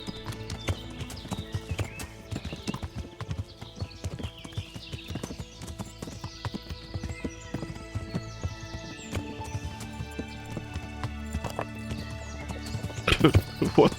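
Horses in the medieval game Kingdom Come Deliverance gallop with dense, rapid clip-clop hoofbeats that run throughout, with occasional neighing and a louder burst near the end, while someone talks over them.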